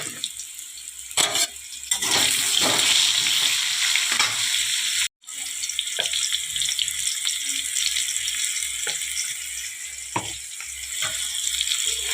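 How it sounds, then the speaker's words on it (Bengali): Potatoes fry in a pan, making a steady close sizzle broken by occasional clinks of stirring and a brief silent gap midway. "আলুটা একটু ভেজে রেখে নিচ্ছি"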